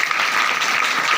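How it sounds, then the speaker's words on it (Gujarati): An audience at an Independence Day event at a village primary school claps for a speaker, with dense, lively applause from many hands throughout. "તેમના માટે એકવાર જોરદાર તાળી."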